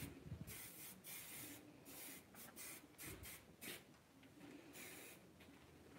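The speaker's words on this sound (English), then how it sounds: "And finishing touch with the Enviro Firm Hold Hairspray." Bursts of Enviro Firm Hold Hairspray misted onto hair after a fringe cut at a salon, a run of close, breathy hissing sprays repeating irregularly over a soft background.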